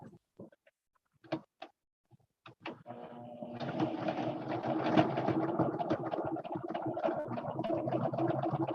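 A few scattered clicks and taps come first, then a sewing machine runs steadily, stitching two small triangle fabric pieces together with a quarter-inch seam in a continuous, even whir.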